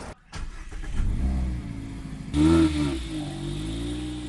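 A car with a 1.5-litre petrol engine revs nearby, a rising and falling mid-pitched engine note that climbs sharply partway through, then eases back to a steady hum.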